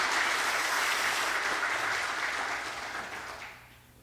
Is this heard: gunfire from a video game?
no